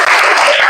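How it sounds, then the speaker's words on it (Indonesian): Students applaud together in a classroom, a short burst of dense, steady clapping from a group at close range. "tepuk tangan dong."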